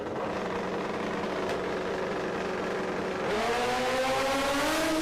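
Drag race cars launch together down the racetrack at a semifinal event, a sustained loud engine roar that rises sharply in pitch as they accelerate away.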